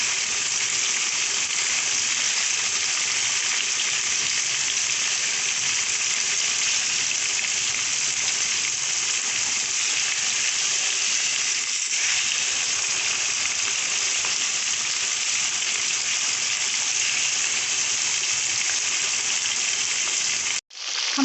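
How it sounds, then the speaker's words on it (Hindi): Fish pieces sizzle in hot oil in a kadhai, a loud, steady, close crackling hiss that runs without a break for about twenty seconds before cutting off abruptly. "हमारी मछली फ्राई हो चुकी है।"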